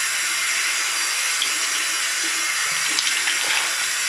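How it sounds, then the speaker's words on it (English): A bathroom sink tap runs steadily, a continuous bright hiss of flowing water, fairly loud and uninterrupted, with faint handling sounds near the end. "I'm just going to turn on my sink"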